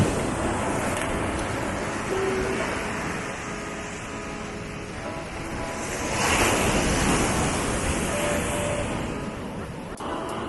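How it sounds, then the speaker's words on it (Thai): Heavy sea waves roar and crash continuously nearby on a black-sand beach in Bali, with gusting wind buffeting the microphone and a swell of louder surf midway. "คลื่นค่อนข้างแรงเลย"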